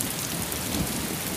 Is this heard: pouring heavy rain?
yes